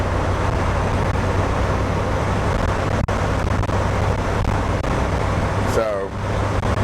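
A 1991 Alfa Romeo Spider climbing a hill in fifth gear at about 60 mph and roughly 3,000 RPM, a steady, fairly loud engine and road drone with wind noise and a brief thump near the end.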